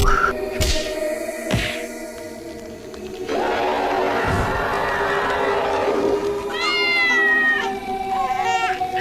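Cats yowl and meow in drawn-out, wavering cries amid scuffling thumps, with a rising caterwaul near the end; no one speaks.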